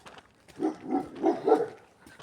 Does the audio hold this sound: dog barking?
yes